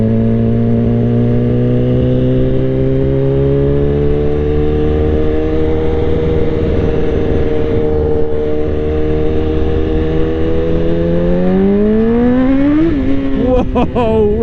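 A BMW S1000RR motorcycle accelerates hard with its rear tyre spinning, the engine a loud, sustained high-revving roar that climbs steadily in pitch, close to the microphone and alone throughout.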